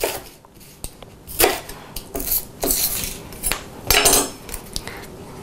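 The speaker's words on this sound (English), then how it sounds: "Cut it in half and peel it." A knife works through a sweet yellow onion on a board, with irregular taps and scraping strokes as it is halved and peeled, close and clear with no talk.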